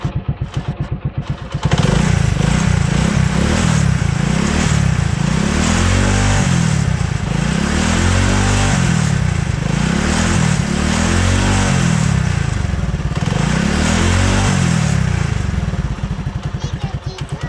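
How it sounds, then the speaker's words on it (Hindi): Motorcycle engine, close and loud, revved repeatedly in a steady cycle of rising and falling surges for about fifteen seconds, while a voice talks briefly at the start. "मैं इसमें बाइक की रेस छोड़ूंगा"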